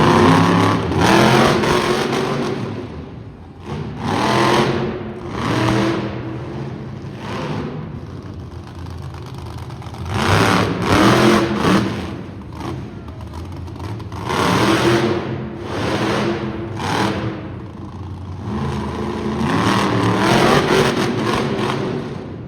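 A monster truck engine revs repeatedly on the track during a Best Trick competition at a winter motorsports show, loud surging bursts rising and falling in waves with brief dips between, over a steady arena hum.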